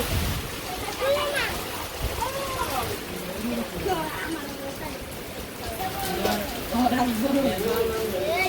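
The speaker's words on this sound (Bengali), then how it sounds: "এই যে বলতে বলতে বৃষ্টি নামে পড়ছে" Rain falling steadily during a village storm, a continuous moderate hiss and patter running throughout while people talk over it.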